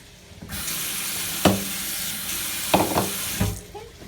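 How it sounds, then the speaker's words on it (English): Water streams steadily into a cooking pan for a stir-fry of rice vermicelli for a few seconds, with a few clanks and scrapes of utensils partway through, then the flow stops. "let's add some water"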